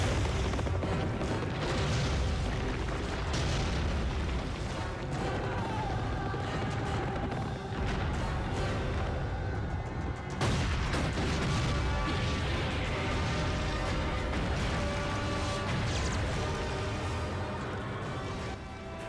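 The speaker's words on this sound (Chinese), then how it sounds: "二次革命的隆隆炮声" Cannon fire from the 1913 Second Revolution in China, rendered as a dense, continuous barrage of rumbling booms and crashes that stays loud and unbroken throughout.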